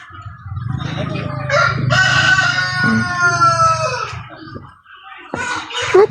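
A large rooster at a farm in Tagaytay crows one long, loud call close by, with clucking around it and people talking before and after.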